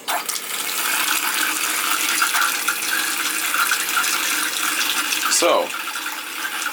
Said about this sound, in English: the hot water's working and the cold water